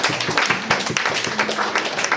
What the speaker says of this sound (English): And I'd like another round of applause for the girls in church who sang that.